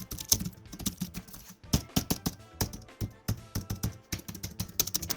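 Keystrokes on a simple, rounded-keycap keyboard with a soft, laptop-like feel, rapid irregular clicks and taps in quick bursts with brief pauses, close and fairly loud, no voices.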